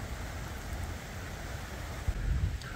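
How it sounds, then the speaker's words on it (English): Heavy rain from the remains of Hurricane Debbie pours outdoors beside the Lackawanna River, a steady dense hiss that fills the whole stretch, with a brief louder thump near the end. "it's really raining"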